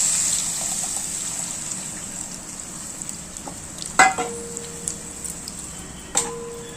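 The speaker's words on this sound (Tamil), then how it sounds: "நம்ம ஊற வச்ச புளியை நம்ம கரைச்சி வச்சுருக்கோம் அதை அப்படியே ஊற்றிடலாம்" Soaked tamarind water being poured into a pan of sautéed masala for sambar: a steady soft sizzle and watery hiss, broken by a few sharp metallic clinks and knocks from a utensil.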